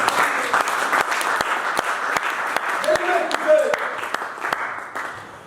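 Church congregation applauding during a French-language sermon on forgiveness and freedom: steady, dense clapping sustained throughout, with a few voices calling out briefly midway.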